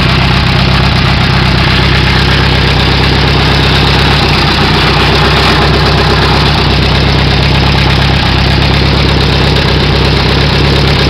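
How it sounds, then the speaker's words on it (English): A 1929 Henderson KJ motorcycle engine idles loudly and close, a dense, steady mechanical rumble with fine rapid ticking and knocking running unbroken throughout. "You can hear the engine change."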